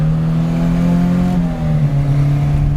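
Engine of an Alpine Renault A110 Berlinette 1600 SC revs loudly while driving, a close, continuous throaty drone that holds steady then drops slightly in pitch, with no talk.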